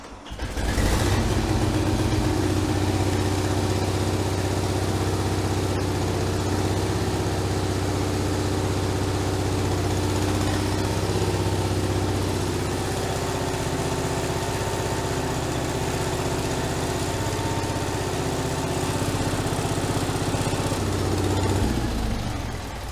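A loud lawn mower tractor engine, rigged as a wrecker for broken mowers, runs steadily close by for over twenty seconds, holding an even idle-like drone with a strong low hum before cutting off at the end.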